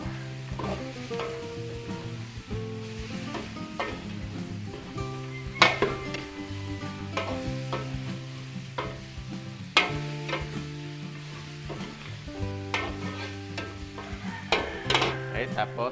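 A salted Filipino dish is stirred in a pan, with a steady sizzle of frying under repeated scraping and clinking of the spoon against the metal, loud and close, with no talking.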